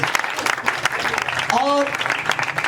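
An audience at a prayer gathering in Faisalabad claps for a team in dense, continuous applause, with a voice briefly calling out over it partway through.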